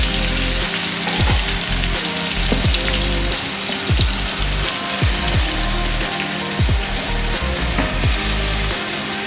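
Ground onion paste fries in oil for chicken rezala, with a dense, loud, crackling sizzle and a rhythm of repeated spatula scrapes and stirs close to the pan. No speech.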